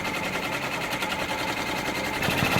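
A Brother embroidery machine stitches out a leaf tiling design, giving a steady, fast, close mechanical whir with a rapid stitching pulse throughout, no voices.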